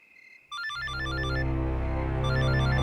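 A telephone starts ringing abruptly after a short electronic tone, its bright repeating trills rising in loudness over a droning musical background in a horror drama scene.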